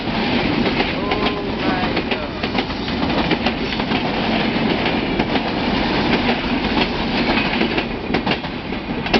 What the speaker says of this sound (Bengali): এই যে গাইজ চলে গেল ট্রেনটি।